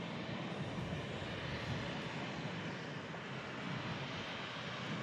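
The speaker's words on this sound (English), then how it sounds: "This Ryanair, though, next to land from Almeria." A Ryanair airliner arriving to land from Almeria roars as a steady, broad engine rumble at moderate distance, continuous throughout with no talk.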